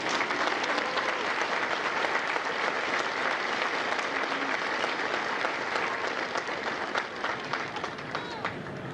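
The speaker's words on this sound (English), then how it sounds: "join me in a round of applause for our officers, drill instructors, and their families" Loud, sustained applause from a large audience at a Marine Corps recruit graduation at MCRD San Diego, dense clapping that holds steady throughout with crowd noise mixed in.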